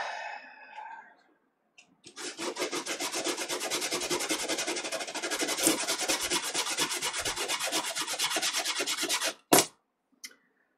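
A wooden boat hull is sanded by hand in a long, continuous rasping scrub of even strokes, close and loud, ending with a few sharp knocks.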